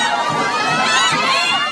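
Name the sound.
crowd cheering at float parade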